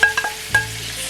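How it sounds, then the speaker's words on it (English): Vegetables, including broccoli, sautéing with butter in a pan: a soft sizzle under a few quick stirring scrapes, close and brief, with no voices. "So these guys are sauteing up really nice."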